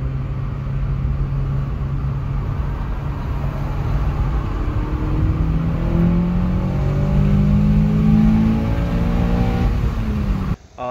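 A Honda K24 engine fitted with water/methanol injection and tuned to about 12.5:1 air-fuel climbs steadily in pitch toward redline. It is loud and continuous, then cuts off abruptly at the end.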